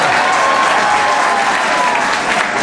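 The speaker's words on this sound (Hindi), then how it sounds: "वो बच्चे तालियां लगा रहे हैं जो लायक बच्चे हैं।" Students clap together in a dense, steady burst of applause that fills the room from start to finish, loud and close, with a faint murmur of voices underneath.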